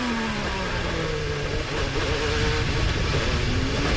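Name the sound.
onboard sound of Simona de Silvestro's IndyCar racing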